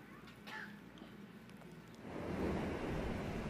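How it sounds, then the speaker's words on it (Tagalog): Ocean waves crashing on a shore, played back from a video during a church sermon; a faint wash swells into a broad, steady roar partway through. "Yung alon na yan, hahampas po yan sa dalampasigan, babalik yan, hahampas uli"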